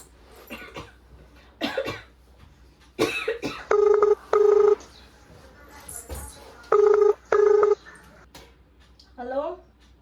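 A telephone is dialed in two separate bursts of short keypad beeps, with coughing and talking in between.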